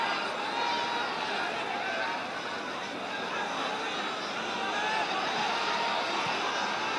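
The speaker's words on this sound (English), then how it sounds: "And the shouts from the crowd are just a little bit more anxious now, aren't they?" A stadium crowd at a Bangladesh vs Australia World Cup qualifier football match gives off a constant roar of shouting and chanting, a broad steady wash of distant voices.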